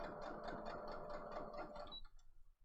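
A home sewing machine stitches a fabric face mask, its rapid even needle rhythm running steadily for about two seconds before stopping, with faint handling sounds afterward.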